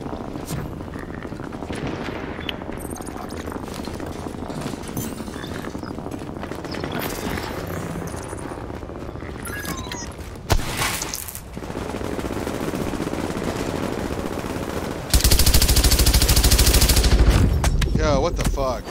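Video game gunfire from The Division rattles in rapid bursts over a busy mix of game sounds, growing louder and denser toward the end.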